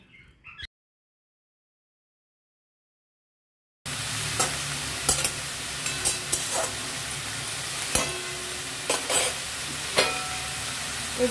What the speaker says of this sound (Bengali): লবণ হলুদ দিয়ে একটু নাড়াচাড়া করে ঢাকা দিয়ে সিদ্ধ করে নেব।